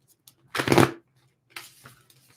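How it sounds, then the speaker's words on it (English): Tarot cards are shuffled in two short bursts of riffling, the first louder and the second softer, close up and without talk. "one more shuffle here"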